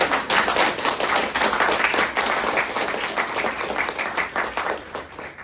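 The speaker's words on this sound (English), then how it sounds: "can you all please give a big round of applause?" A Toastmasters club audience gives a big round of applause, many hands clapping at an even, brisk rhythm in a room, continuing alone without talk.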